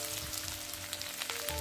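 Onions sizzle steadily in hot mustard oil in a pan, a close, continuous crackling fry with small popping bursts and no talking.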